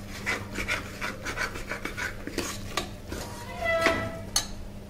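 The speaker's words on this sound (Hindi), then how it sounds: "सारी सब्जियों को कुकर में डाल के अच्छे से चला लेंगे" A spoon scrapes and stirs vegetables in a metal pressure cooker with quick rhythmic strokes up close, ending with a light metallic clink.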